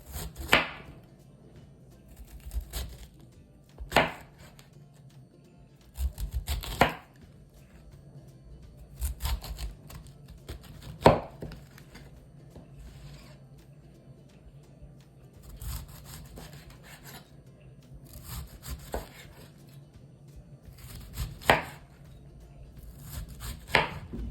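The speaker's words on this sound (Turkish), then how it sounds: "şöyle bir parmak kalınlığında yuvarlak yuvarlak kesiyorum." A knife cuts cauliflower into finger-thick rounds on a board, a dozen or so distinct thunks spaced irregularly, close but fairly quiet, with soft rubbing between cuts.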